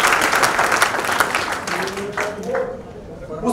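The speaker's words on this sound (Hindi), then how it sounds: "तो सब देवी देवता अपने लिए ताली बजाएगा।" An audience at a memorial lecture breaks into steady applause that fills the room, tailing off near the end.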